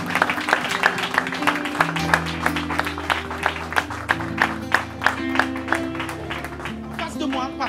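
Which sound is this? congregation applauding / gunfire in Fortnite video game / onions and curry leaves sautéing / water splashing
congregation applauding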